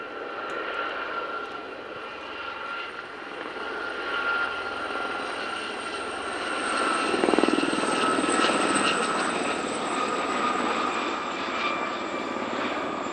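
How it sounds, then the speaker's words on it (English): A Gazelle helicopter flies steadily overhead at an airshow, its rotor and engine drone continuous, swelling louder midway as it passes closer. "one of these helicopters does still wear a Sharks colour scheme"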